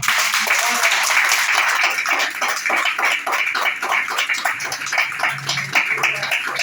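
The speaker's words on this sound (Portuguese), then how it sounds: "Que as palmas louvam o Senhor." A church congregation claps in praise, many hands striking together in a fast, even rhythm that fills the room loudly and continuously, with a faint voice underneath.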